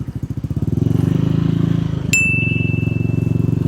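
A motorcycle engine revs steadily and loud, held at roughly 4,000 rpm with a pulsing exhaust throb, and a brief sharp metallic ping rings out partway through.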